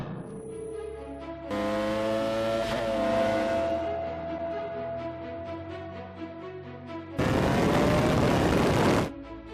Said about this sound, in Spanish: es una cortadora de césped equipada con un motor Honda de 1 litro de cilindrada con 109 caballos